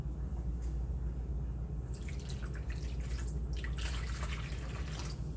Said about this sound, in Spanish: Le vamos a agregar otro poquito de agua aquí al topper también para enjuagarla